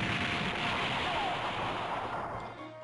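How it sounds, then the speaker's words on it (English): An explosion in Super Robot Wars Alpha Gaiden rumbles as a loud, sustained roar that slowly fades away. "I think there may have been an explosion."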